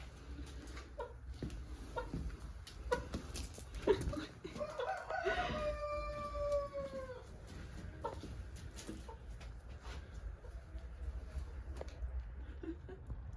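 A backyard chicken clucks and calls in a drawn-out, rising-and-falling burst midway through, with scattered softer clucks around it over a steady outdoor background hiss. The sound is fairly faint and distant throughout.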